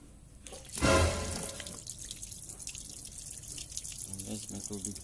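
Water dripping and trickling from a leaking PPR pipe union with a hardened old gasket, a brief louder splash early on, then steady close drips.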